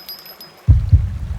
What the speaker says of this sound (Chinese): 心跳声。